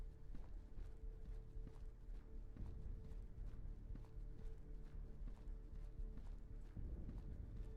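Horse hooves in the video game Mortal Online 2 keep up a steady, continuous clip-clop of walking steps over a low droning game ambience, moderately loud and without any talk.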